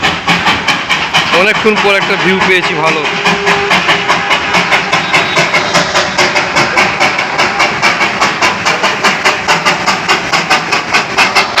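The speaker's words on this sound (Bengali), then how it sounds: "এই টয় ট্রেন আসছে" The Darjeeling toy train approaches at Batasia Loop with a fast, regular clickety rhythm of wheels and mechanical chugging, loud and close, while a person talks over it near the start.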